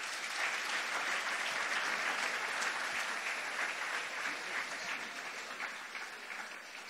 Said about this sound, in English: I'd like us all to give them another round of applause.